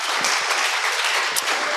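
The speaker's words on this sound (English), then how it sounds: "Guys, one more round of applause for Johnny." A youth group gives a round of applause for Johnny, steady dense clapping from a roomful of young people that stays loud and close for the whole stretch.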